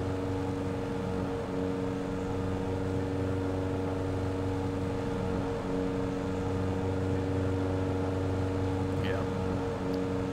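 Steady engine drone of an Edgley EA-7 Optica light aircraft in Microsoft Flight Simulator, revved near 5,000 RPM, holding a constant loud hum throughout with a brief spoken word over it.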